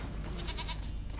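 A goat bleats in The Witcher 3: Wild Hunt, a short wavering cry standing out over low background rumble, with another bleat starting at the very end.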